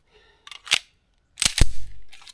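A Staccato C2 Monsoon Tactical handgun with a Genghis compensator fires on a range: a few sharp, loud cracks stand out against silence, the heaviest one booming with a short rumbling tail, and no one speaks.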